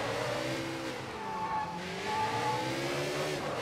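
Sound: car driving in video game Sleeping Dogs

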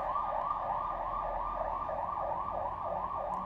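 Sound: approaching emergency vehicle sirens

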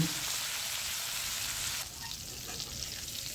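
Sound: potatoes frying in oil

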